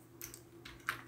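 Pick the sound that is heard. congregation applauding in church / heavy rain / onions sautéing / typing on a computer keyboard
typing on a computer keyboard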